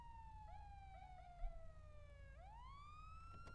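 A police car siren in GTA 5 wails in a steady sweeping tone, dips and then rises again into a higher wail, heard alone with no talk.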